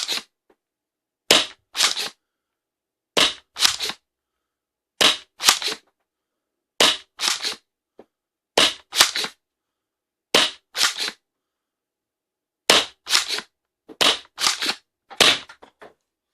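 A Worker Seagull foam dart blaster fitted with a 28 cm spring and 21 cm barrel fires about a dozen sharp, loud pops with clicks of priming, spaced a second or two apart in an even rhythm, no talking.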